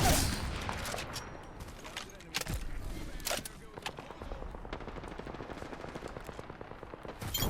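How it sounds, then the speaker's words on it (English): Rapid automatic gunfire from the video game Apex Legends, dense bursts of sharp shots firing almost continuously, with a few heavier single reports standing out, loud and close throughout. "There's some gunshots."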